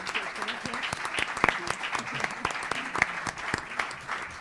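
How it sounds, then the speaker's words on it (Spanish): An audience at a congress applauds steadily, a dense patter of many hands clapping at close range that holds at even loudness throughout. "un fuerte aplauso para doña Carmen."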